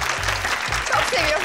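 Applause rises and carries through the whole short stretch, steady and fairly loud, with talk audible alongside it.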